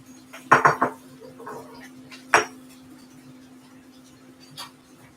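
Pans being rinsed in a home kitchen while making dinner: a few sharp clanks and clinks of metal cookware, then a lone knock and a faint later clink over a steady low hum.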